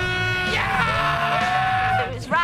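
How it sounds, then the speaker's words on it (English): A crowd of spectators lining a UCI Mountain Bike World Cup downhill course cheers, screams and shouts loudly and continuously, with sustained yells and whoops. "people lining it and just like cheering and screaming and shouting"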